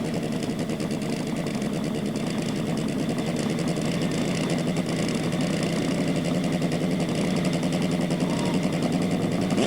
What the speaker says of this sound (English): The big V-twin Ducati completing its burnout.